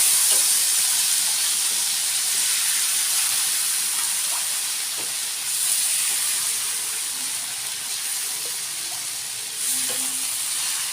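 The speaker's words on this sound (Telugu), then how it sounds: "ఇప్పుడు అట్టు పోసుకోవాలి." Rava dosa batter sizzles steadily on a hot street-style griddle, a continuous loud frying hiss with small crackles and brief scraping stirs, no voices over it.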